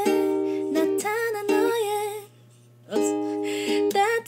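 Ukulele plucking all strings through the pre-chorus chord pattern of a song, sustained chords in short phrases with a brief pause midway, close and clear with no talking.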